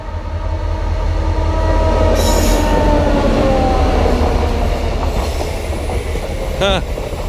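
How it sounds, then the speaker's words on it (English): A train rumbles loudly past close by along a railway track beside a walking path on the Camino de Santiago, a steady heavy roar of wagons with a wheel squeal or horn near the end. "And I think I hear a train coming."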